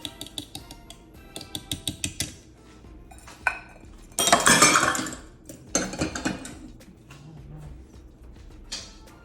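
Fresh raspberries folded into muffin batter in a bowl, with a spatula or spoon clinking and tapping against the bowl in a quick rhythmic series, then a louder scraping, clattering stretch and a few scattered knocks.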